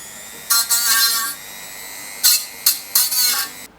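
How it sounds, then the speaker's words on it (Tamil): An INGCO mini rotary tool grinds paint off a tin in several short high-pitched whining bursts: one long run, then three quicker ones with brief pauses between, close by. "இந்த டின்னில் உள்ள பெயிண்ட்டை வந்து ரிமூவ் பண்ணதான்னு ட்ரை பண்ணி பார்ப்போம்"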